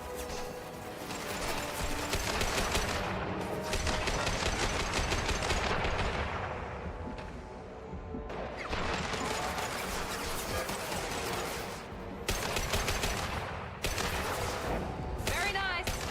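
Mass Effect 2 gunfire crackles in repeated rapid bursts through a busy battle, with mechanical clatter mixed in and voices talking at points.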